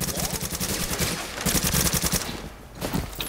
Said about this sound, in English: Someone shooting through the wall?